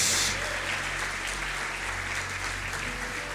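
A church congregation applauds together in a sustained, dense burst of clapping that fills the hall, holding steady throughout without pause.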